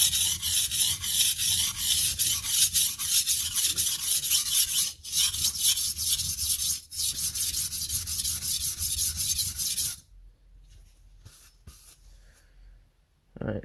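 A Western chef's knife being sharpened on a stone, the blade angle dropped slightly lower: steady, loud gritty rubbing strokes for about ten seconds with two brief pauses, then near silence with a few faint scrapes.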